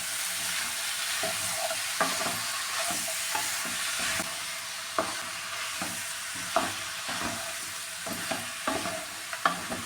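Chicken pieces with tomato frying in a pan for pepper chicken, a steady bright sizzle broken by repeated scraping stirs of a spoon against the pan, close and with no voices.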